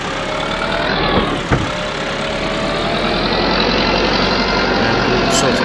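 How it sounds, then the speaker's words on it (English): A tractor engine idles steadily in Farming Simulator 22, a loud, continuous low rumble with a broad mechanical roar and one brief knock early on. "now I'm going to put this tractor in the shed over here."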